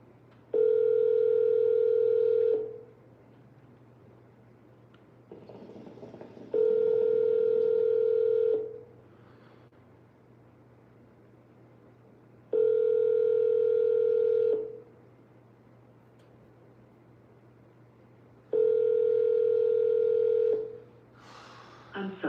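Ringback tone of an outgoing telephone call, four steady two-second rings separated by about four seconds of quiet, with a low constant hum underneath.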